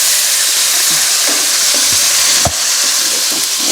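Tomatoes frying in ghee for chicken karahi, a steady close sizzle with spoon stirring and scraping against the pan, including one sharper knock partway through.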